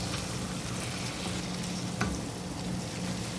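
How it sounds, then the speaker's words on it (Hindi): Boiled potatoes for aloo ka bharta mashed with a wooden ghota, a steady soft broadband rasp of crushing and stirring throughout, with one sharper knock partway through. "ये मेरे पास घोटा है, इससे मैं घोट लूँगी।"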